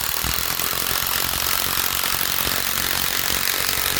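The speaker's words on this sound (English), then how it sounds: "Next, 50mm 2 inch batten screw." An Ozito 18V impact driver drives a 50mm batten screw into wood, a loud steady buzzing whir with a rapid hammering rattle that runs unbroken and close throughout.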